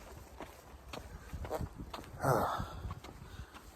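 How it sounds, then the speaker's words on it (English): Scattered hoof thuds and shuffling steps from a horse nearby, with a brief snort or rustle in the middle, irregular and fairly faint outdoors. "I think I just heard a horse as I was walking by"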